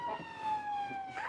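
Ambulance siren giving a brief toot, a single clear wailing tone sweeping slightly over about a second, close and moderately loud.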